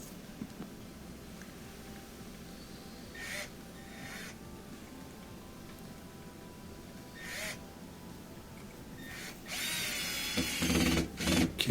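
A power drill zips a screw home while reinstalling motor brushes in a Whirlpool washer, giving short bursts around 3–4 s and 7.5 s and a louder, longer whir near the end, with quiet workshop background between.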